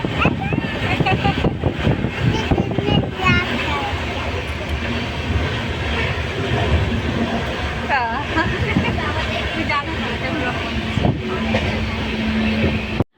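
A train to Darjeeling rumbles continuously with rattling wagons and steady track noise, while people talk over it and occasional high squeaks cut through.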